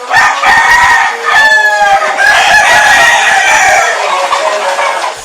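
Roosters kept in cages at a raided dogfighting ring crow loudly and close by, several overlapping calls with clucking between them and no voices.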